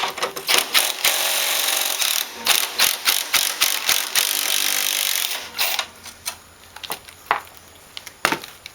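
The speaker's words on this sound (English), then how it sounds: "So I'm going to hold the nut on the other side with my wrench." A half-inch wrench working a stuck, corroded nut on a Toro Recycler lawn mower makes loud, rapid bursts of ratcheting clicks, followed by a few slower, separate knocks and clicks.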